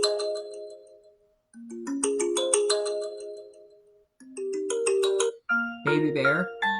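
A device ringtone, a shimmering electronic melody of layered bell-like notes in several phrases separated by short pauses, ending in a swirling flourish, heard close and alone.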